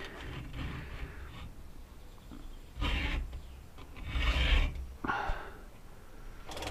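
Scraping strokes of a file rasping against the chain teeth of a McCulloch MAC130 chainsaw, several uneven passes at close range over a constant background hiss.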